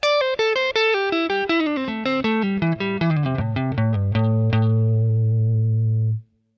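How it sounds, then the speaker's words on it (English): An electric guitar plays a quick pentatonic run of single notes stepping downward, ending on a sustained low note that rings and then cuts off. "run 4 is going to be another one that descends back down the scale"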